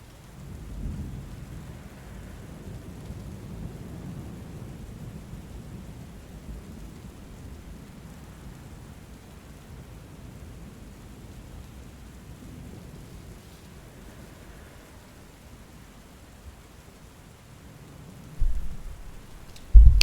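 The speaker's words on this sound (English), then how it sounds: "Kind of a gentle storm, though." A gentle thunderstorm from the game Book of Hours rolls on steadily, with a low rumbling wash of rain and distant thunder that swells softly before a couple of sharper, louder bumps at the end.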